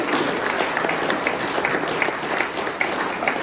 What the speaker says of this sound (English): I'd like you all to give a big round of applause to our three candidates